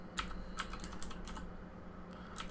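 Keystrokes on a computer keyboard while entering a terminal command, a quick cluster of clicks followed by a pause and a couple more taps, close and alone.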